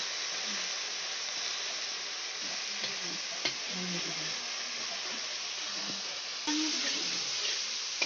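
Masala with chili powder fries in oil, giving an even, moderate sizzle with soft stirring scrapes and occasional knocks. The hiss swells slightly louder toward the end.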